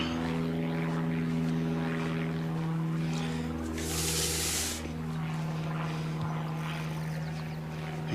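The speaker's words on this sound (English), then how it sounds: "Damn you, plane, go away." A propeller airplane passes overhead, its steady droning hum holding for several seconds at a fairly even level, with no talking over it.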